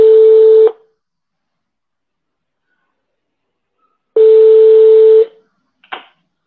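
Telephone keypad tones as a number is dialed: two sustained electronic tone bursts separated by a few seconds of silence, then a brief faint blip, clear and close with no talking.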